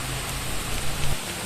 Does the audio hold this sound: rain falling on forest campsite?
yes